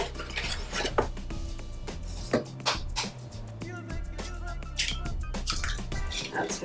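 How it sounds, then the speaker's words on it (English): Eggs are cracked and dropped into chocolate cake batter in a bowl, giving repeated clinks and taps against the bowl rim with wet plops. Background music plays throughout and a voice talks over it. "Let's add the eggs."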